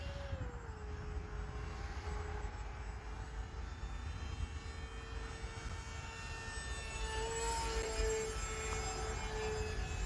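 A Hobbyzone Aeroscout RC plane flying aerobatics through knife-edge and inverted passes, its electric motor whining as a steady distant drone with shifting pitch, faint outdoors and with no talk.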